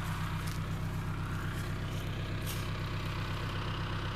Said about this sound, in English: This machine has a 17 horsepower Kawasaki KAI engine. Starts up every time and runs great.